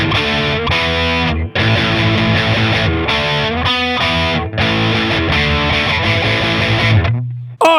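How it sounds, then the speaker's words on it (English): Crunchy distorted electric guitar played through a Boss Katana amp, loud, steady strummed chords that stop abruptly with a short low note at the end. "It's got some pretty good crunch."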